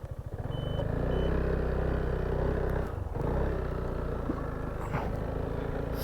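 A 2021 Piaggio MP3 Sport Advanced 500 scooter engine revs under throttle, a close, loud, steady drone with a brief dip near the middle before it picks back up.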